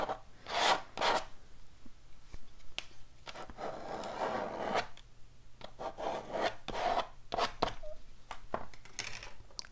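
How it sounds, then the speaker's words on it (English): Texture is scraped into wet watercolor paint on paper in a series of close, quiet, rasping strokes, some brief and some drawn out, with small pauses between them. "while the paint is still wet, you can go in and just scrape in some texture that looks kind of like mountains or rocks"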